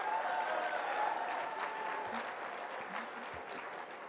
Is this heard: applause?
yes